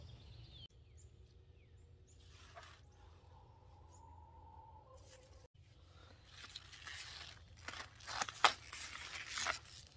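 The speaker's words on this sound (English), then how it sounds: "this is probably going to be the last time that I am going to be able to cut this lettuce" Scissors cut garden lettuce outdoors, soft scraping snips that grow busier and louder toward the end over quiet background sound with faint bird calls.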